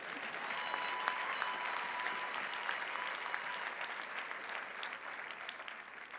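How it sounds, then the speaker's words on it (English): A graduation audience at a South African College of Medicine ceremony in Johannesburg applauding, sustained dense clapping from a large crowd that holds steady throughout and fades slightly at the end. "My hope for you is that you can clap,"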